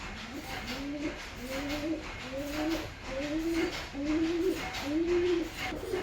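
Domestic pigeons cooing after being let out of their loft, a steady run of repeated rolling coos from several birds close by, with no talk over them.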